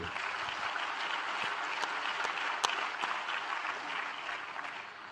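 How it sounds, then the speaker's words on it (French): Audience applause at a French business conference session, dense and steady for about five seconds with a few sharper claps standing out, fairly close and with no talk over it. "On applaudit Pauline."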